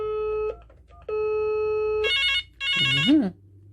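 An extension on an Intelbras 4015 PBX gives two long, steady tone beeps, then two bursts of warbling ring, close and loud, ending with a brief gliding electronic chirp.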